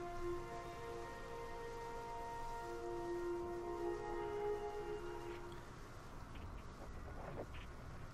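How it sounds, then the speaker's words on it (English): Rain falling in the Mars Horizon space-agency video game, a steady even hiss of rainfall that persists throughout, with sustained tonal game music layered on top. "Oh, it's raining."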